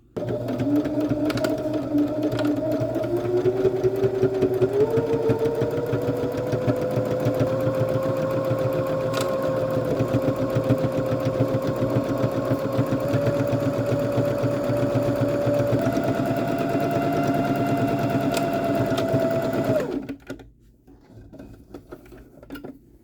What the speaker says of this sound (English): I'm going to sew up the short sides of both the front and back pieces with just a straight stitch.